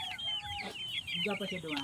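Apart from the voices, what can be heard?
chickens clucking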